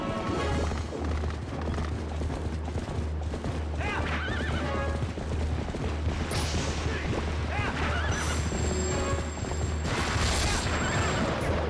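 Epona the horse whinnies in The Legend of Zelda: Twilight Princess over a busy game mix of hoofbeat clip-clops, booms and crashes, with talk running over it.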